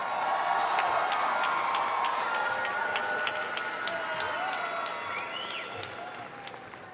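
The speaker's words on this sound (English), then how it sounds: "let's give one more round of applause to our graduates." Graduation ceremony crowd applauds in a broad, steady wash of clapping heard from a distance, with faint cheers and whoops rising over it before it slowly tapers.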